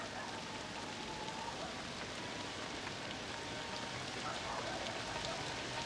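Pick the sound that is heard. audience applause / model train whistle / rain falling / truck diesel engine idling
rain falling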